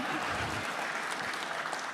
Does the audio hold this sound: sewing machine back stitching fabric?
no